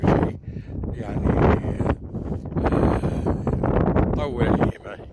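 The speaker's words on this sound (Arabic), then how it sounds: "وأكثر ما ضايقنا عشان هواء الشيرات، الخيط يمشي ويشير وينقطع" Strong, gusty wind buffets the microphone on a fishing boat off the Kuwaiti coast, a loud continuous roar that rises and falls, with someone talking in between.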